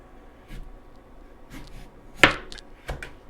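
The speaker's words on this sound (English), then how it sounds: "I'm going to chop up this carrot, and I'm just going to cut it into strips." Knife chopping a carrot into strips on a board, a few sparse, close cuts with one sharper knock among them over quiet kitchen background.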